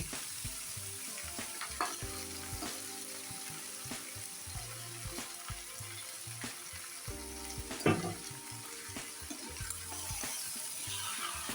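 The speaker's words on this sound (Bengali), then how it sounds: "মাংসটা দিয়ে নেড়ে চেড়ে আমি মিডিয়াম আঁচে ঢাকা দিয়ে রেখে দেবো।" Pieces of a whole duck frying in a pan while being stirred, a continuous crackling sizzle broken by repeated scraping strokes and knocks of the spoon, close and fairly loud, with one sharper clatter near the end.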